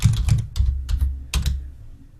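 Rapid clattering keystrokes on a computer keyboard, close and fairly loud, coming in quick uneven bursts with a short pause near the middle and no voices.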